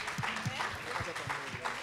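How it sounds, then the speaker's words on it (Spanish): An audience applauds at a live bohemian-style music show, a steady wash of clapping under a host speaking over it. "Aplauso, por favor."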